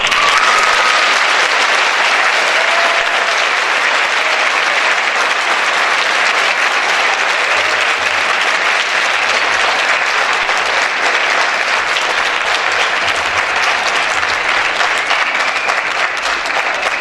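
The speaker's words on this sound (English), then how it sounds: "Please join me in one more round of applause." Loud, sustained applause from a large audience fills a school Thanksgiving assembly, with continuous clapping throughout and no break.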